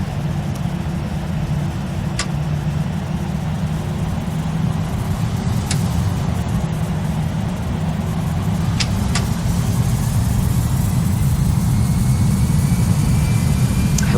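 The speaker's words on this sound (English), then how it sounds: "I love the sound of these engines" Airbus A319 jet engines hum in a flight simulator game, a steady, loud, low drone holding throughout with a few faint clicks over it.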